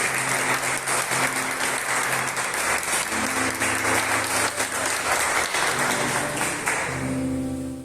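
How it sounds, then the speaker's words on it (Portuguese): Sustained applause from a church prayer group audience, loud and steady throughout, with a musical keyboard tone sustaining beneath the clapping and no speech. "Se você crê nisso, aplauda Jesus de Nazaré."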